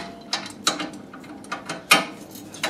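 A ratchet clicks in short bursts while loosening a tie rod at the steering rack of a VW Golf Mk4, close up and fairly quiet, with several separate rasping clicks spread across the moment.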